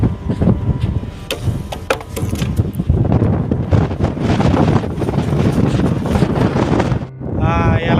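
Wind gusts buffeting a microphone outdoors in Saudi Arabia, a loud continuous low rumble with irregular bursts for most of the clip, briefly dropping near the end where a voice is heard.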